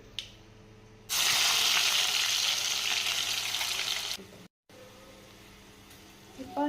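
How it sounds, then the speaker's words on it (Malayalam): Crushed garlic and ginger dropped into hot oil for a Kerala-style fish curry, already popping with fenugreek and mustard seeds, burst into a loud, steady sizzle lasting about three seconds before settling back to a quieter crackle. "ഇനിയിപ്പോൾ ഞാൻ ഈ ചതച്ച് വെച്ചിരിക്കുന്ന വെളുത്തുള്ളി ഇടുവാണേ."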